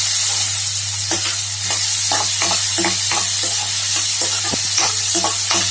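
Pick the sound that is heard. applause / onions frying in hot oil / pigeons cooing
onions frying in hot oil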